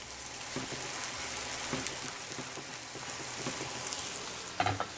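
Onions sizzle and crackle steadily on a flat-top griddle, a dense hiss with scattered pops and one louder clatter near the end, no voices.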